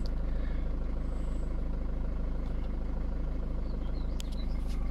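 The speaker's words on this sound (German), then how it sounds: "Ja, wie gesagt, der Motor läuft super." A car engine idles smoothly and steadily nearby, an even low rumble with a constant hum and no voices.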